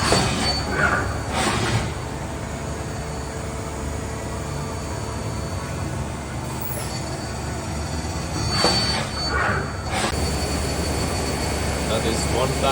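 A Mazak SQT CNC turning centre with C axis, live tools and sub spindle makes a steady, loud mechanical whine and hum during a dry run at spindle speeds around 1700 to 2000 RPM. A voice can be heard over the machine noise.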